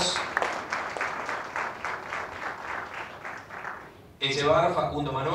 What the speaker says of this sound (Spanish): Renovamos los aplausos.